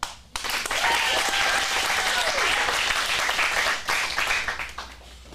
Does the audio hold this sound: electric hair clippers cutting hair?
no